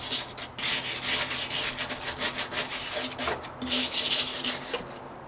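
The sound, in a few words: scraping mold off plywood under a deck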